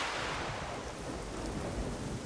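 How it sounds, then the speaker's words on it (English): Heavy cartoon thunderstorm: dense, loud, steady rain noise with a deep rumbling of thunder underneath, holding constant throughout with no voices. "Looks like a really big storm is coming."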